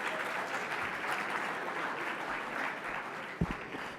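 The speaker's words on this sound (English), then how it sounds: "Give yourselves a round of applause" Applause rises from an audience at an awards evening, a fairly soft, steady patter of many hands heard from a distance, with a couple of low thumps near the end.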